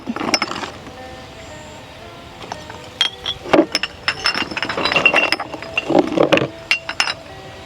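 Empty glass M-100 energy-drink bottles clink and rattle as they are gathered into sacks, a run of close, uneven glassy knocks and jingles in bursts with short pauses between handfuls.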